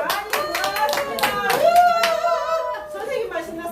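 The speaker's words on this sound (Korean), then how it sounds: "박수 한번 시작." Children at a teachers' training session clap hands in a few quick rounds of close, sharp claps, with voices talking and laughing over and between them.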